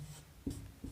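Pen or pencil scratching on paper while writing out a trigonometry solution for a Class 10 maths lesson, a few soft strokes, faint and close, with no talk.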